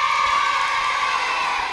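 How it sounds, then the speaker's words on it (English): Children in a television quiz studio audience cheer and shout for the green team, a sustained, dense wall of young voices whooping at steady loudness throughout. "Come on, greens, give them a bit of a cheer."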